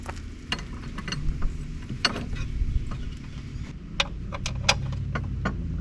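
A ratchet wrench fitted with a 13mm socket works a SeaDoo IBR actuator bolt loose, giving scattered sharp clicks and metallic ticks over a steady low background hum.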